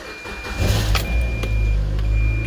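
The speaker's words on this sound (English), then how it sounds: "So you start the car." A 2006 Mazda MX5 Miata engine starting up close and loud, the starter whirring before the engine catches into a steady idle, with a faint electronic whine over it.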